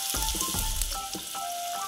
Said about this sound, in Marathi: आपण कांदा फोडणीला देऊया।